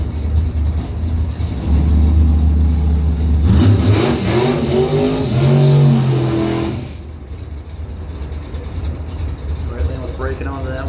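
Mustang and other cars at a drag race, engines roaring loud and steady, swelling into a strong revving run mid-clip before easing off, while a commentator talks over the noise.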